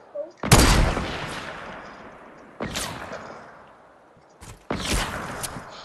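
Sniper rifle shots fired without the scope in Fortnite, three loud sharp blasts at spaced intervals, each followed by a long echoing decay.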